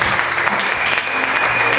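A church congregation at a French-speaking worship service bursts into loud, sustained applause, the dense clapping filling the whole moment with a faint crowd murmur beneath.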